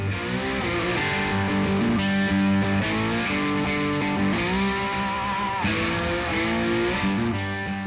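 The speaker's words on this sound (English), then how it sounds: "The Cooper has two separate echoes." Sustained guitar notes run through a Cooper Time Cube echo plugin with two separate echoes, the sliding tones smeared and doubled into a wide, steady stereo wash.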